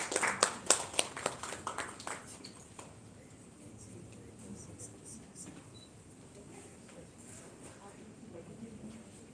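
An audience claps at an award ceremony of the 10th Indian Cine Film Festival. The clapping is brisk and moderately loud at first, then thins out and fades within a couple of seconds, leaving quiet room ambience.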